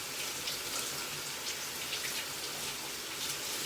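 Peppers being washed under running tap water, a steady soft splashing gush throughout, fairly quiet and close, with no talking.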